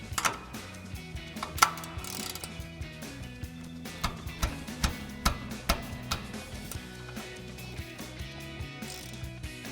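A ratchet wrench clicks in quick repeated bursts while loosening a nut on a 2021-2023 Ford Bronco front strut, close and crisp, with short pauses between strokes and a few louder clanks.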